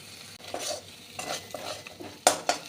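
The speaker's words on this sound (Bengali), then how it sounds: "কাজু বাদাম কিশমিশ সব ভালো করে কষে গেছে একটু ভাজা ভাজা হয়ে গেছে" Cashews and raisins fry in a pan while a spoon stirs them, giving repeated scraping strokes over a soft sizzle, with a couple of sharp spoon clinks near the end and no talking.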